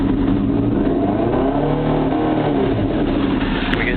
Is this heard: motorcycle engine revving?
yes